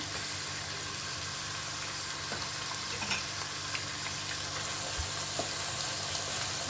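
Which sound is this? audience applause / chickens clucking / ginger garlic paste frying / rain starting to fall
ginger garlic paste frying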